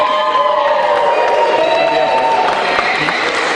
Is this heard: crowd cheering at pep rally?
yes